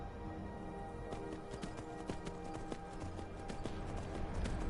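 Horse hooves clip-clop in the Skyrim video game, a steady trotting rhythm of soft knocks over a busy game soundscape with music, while someone talks over it.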